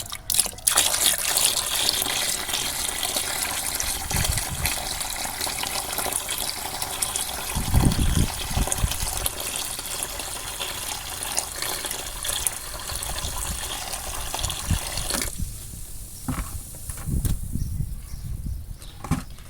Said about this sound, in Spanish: Vamos a echar un poco más de agua para que suba el nivel.